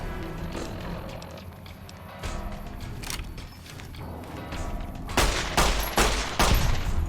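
Gunfire in the game Fallout New Vegas, with a run of loud, sharp gunshot bursts clustered toward the end over a low background rumble.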